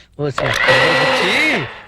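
A kitchen mixer grinder whirs loudly and steadily for about a second and a half after a brief start, with a voice-like tonal sweep riding over the motor noise.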